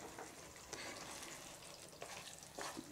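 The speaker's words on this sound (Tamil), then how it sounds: "கஸ்தூரி மெத்தி போட்டு கிளறி விடுங்க" Dried kasuri methi is stirred into paneer gravy in a pan, giving a faint, low simmering sizzle with a few soft scraping strokes of the spoon.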